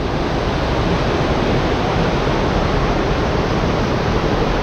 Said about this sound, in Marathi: सुंदर नदी वाहते एवढा छान खळखळाट आहे ना